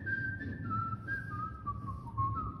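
Someone whistles the melody of a song: a clear, wavering tune, moderately near, over a low murmur of room noise.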